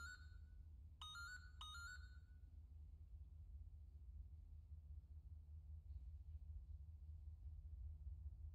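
A mobile phone ringtone chimes three times in quick succession in a snooker arena during a Champion of Champions quarter final, bright melodic tones over a steady low hall rumble before fading into quiet crowd ambience.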